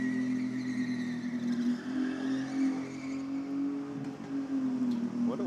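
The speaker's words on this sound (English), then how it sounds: "He'll be coming out for another skid." Lola, a burnout car, revs its engine steadily for another skid at a midweek burnout event, a loud sustained droning roar with slight swells throughout.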